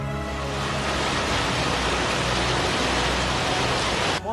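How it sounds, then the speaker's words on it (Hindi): Heavy rain and hail falling at night, a dense, loud, unbroken hiss of pouring water with no voices. "गुरुवार रात हुई अचानक से ओलावृष्टि और बारिश"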